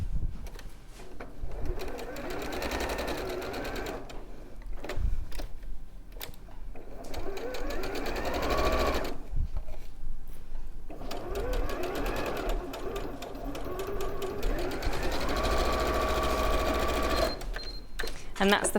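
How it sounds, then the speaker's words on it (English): A sewing machine joins fabric pieces for a pinwheel kneeling pad, running in steady rhythmic stretches with brief stops while someone talks over it. "And one more time we're going to sew."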